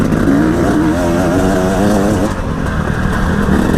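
A KTM two-stroke enduro motorcycle being ridden, its engine note loud and close, rising and falling as the rider works the throttle, with a steady revving drone throughout and no talking.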